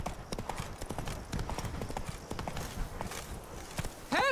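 Roach, a horse in The Witcher 3: Blood and Wine, galloping at full speed, a fast rhythmic run of hoofbeats close by with faint background noise and a short sharp cry at the end.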